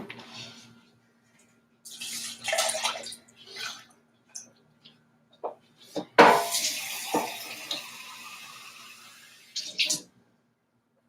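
Oat milk poured into a pot for chai at a loose-leaf tea bar: a sudden close, splashy pour rushes in midway and tapers over several seconds, preceded by scattered soft handling clatter and faint voice-like murmurs.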